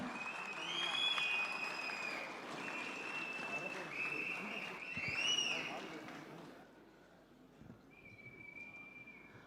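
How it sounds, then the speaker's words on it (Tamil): Audience applause at a hospital book launch event, a steady wash of clapping from a seated crowd that swells midway and then tapers off, with a faint whistle-like tone near the end. "ஒரு பெரிய கைத்தட்டலும் கொடுத்துடலாம்."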